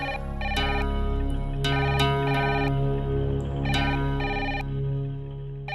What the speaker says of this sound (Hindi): अरे बहू, फोन बज रहा, जरा देखना तो।